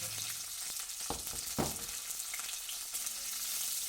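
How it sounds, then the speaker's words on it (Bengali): Bitter gourd frying in hot mustard oil in a wok: a steady close sizzle, with a few sharp clatters from stirring partway through, and no voices. "এবার উচ্ছেগুলোকে ভেজে নেব"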